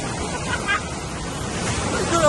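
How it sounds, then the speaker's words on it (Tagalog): Rushing surf roars steadily, a dense wash of breaking water, with faint voices mixed in. "lakas ng alon"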